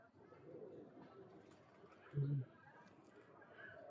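A single low pigeon coo rises briefly midway through, over a steady murmur of background noise.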